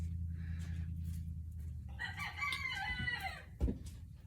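A Silkie rooster crows once, close and clear, after a low hum, followed by a short thump.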